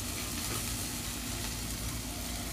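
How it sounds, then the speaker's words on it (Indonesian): Vegetables being sautéed in a pan until wilted, giving a steady, dense sizzle that runs unbroken and fairly close throughout, with no voices. "Kita tumis sampai layu."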